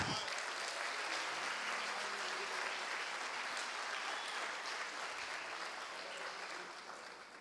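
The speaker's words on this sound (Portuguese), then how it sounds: "Aplauda o Senhor." Church congregation applauding during a Portuguese-language sermon, a dense, even wash of clapping that holds steady and tapers off gradually near the end, fairly quiet overall.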